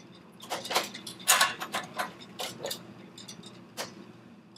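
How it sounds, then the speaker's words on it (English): A small screw with a washer being tightened into a vertical rod lock assembly, a series of close, sharp metallic clicks and scrapes in uneven bursts. "Holding the device down will assist you in actually tightening that screw down properly"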